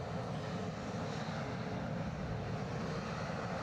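A Boeing 787 Dreamliner passing overhead near Edinburgh Airport, a steady, broad, distant jet roar with no talk.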